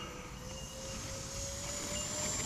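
Freewing PJ50T RC model jet on its takeoff run, a steady turbine whine with a slowly rising tone over broadband roar, building gradually in loudness, with no talk.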